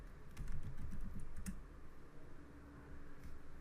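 Soft, quick keystrokes on a computer keyboard while writing C# code, a faint burst of tapping clicks over a low room hum, with no speech.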